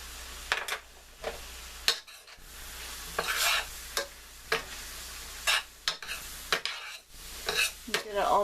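Flour is stirred into a vegetarian stroganoff in a pan, with sharp scrapes and taps of a utensil at irregular intervals over a low, steady sizzle and no voices.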